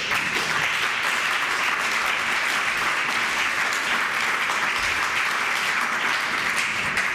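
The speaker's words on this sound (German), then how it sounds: "Applaus" An audience at a German party conference session applauds a speech about nightlife and living spaces, with a long, even roar of many hands clapping that holds at a steady volume throughout.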